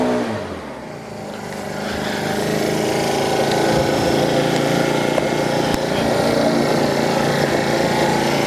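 PC50 paddock cleaner vacuum for picking up manure in paddocks and stables, running with suction as a steady loud motor drone with whooshing airflow, continuous throughout and heard alone up close.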